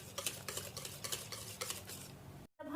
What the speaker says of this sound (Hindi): और इसे भी अच्छे से मिक्स कर लेंगे।